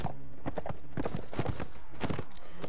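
Horses' hooves pound in a rapid, steady clip-clop rhythm during a cavalry battle in Mount & Blade Warband, loud and close with scattered clatter over a constant low rumble.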